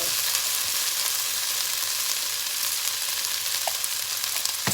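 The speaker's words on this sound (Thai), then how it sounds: "แล้วเราก็จะคลุกเคล้านะคะ ให้เข้ากันเนาะ" Pork frying in a pan with seasoning powder added for a Thai pork belly stew, a steady close sizzle with faint scraping as it is stirred and tossed, no talking.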